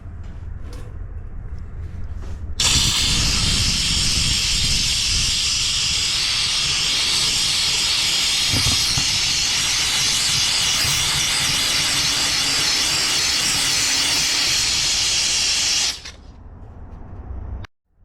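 Awasky steam cleaner hisses loudly and steadily for about thirteen seconds while steaming decades-old grime off a shop wrench, starting abruptly after a brief quieter moment and cutting off near the end.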